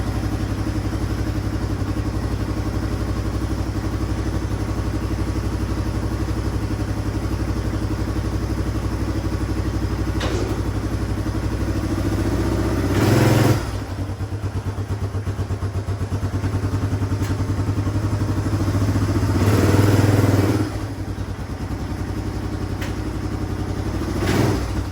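Yamaha Timberwolf ATV engine running and driving in gear, a steady mid-pitched motor drone with clatter, swelling louder in two brief bursts of throttle; no talking.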